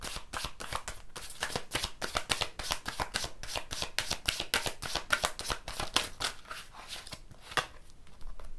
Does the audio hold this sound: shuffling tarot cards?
yes